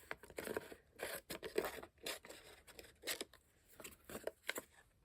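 Scissors cutting paper for a mixed media Halloween craft, a quiet series of irregular close snips and rustling scrapes spread across several seconds, with no talking.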